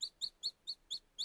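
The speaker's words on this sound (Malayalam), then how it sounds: "ഒരു ചെറിയ പക്ഷിയുടെ കരച്ചിലായിരുന്നു അത്" A small bird cries with six evenly spaced, high, sharp chirps in quick succession, faint and heard alone.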